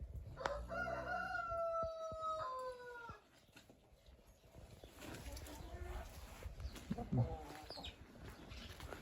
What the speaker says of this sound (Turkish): Bunlar bizim tavuklar.